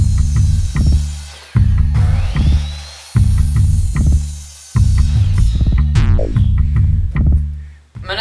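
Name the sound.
power tool cutting pieces for dirt bike stand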